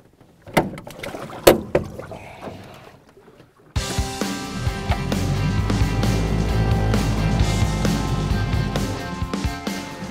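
A small aluminium boat gets under way on a lake, its steady engine drone starting abruptly after a few sharp knocks and thumps, then running loud and continuous with a constant low rumble.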